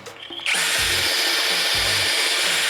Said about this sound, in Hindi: और उसके बाद हमें ड्रिलिंग करनी पड़ती है।